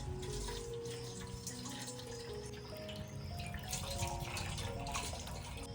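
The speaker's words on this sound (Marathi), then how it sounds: "तर आता आपण ही शेपूची भाजी स्वच्छ धुवून घेऊया" Dill greens are washed under a running tap, a steady, faint stream of water splashing continuously into a sink with light dripping and rustling, recorded nearby in a quiet kitchen.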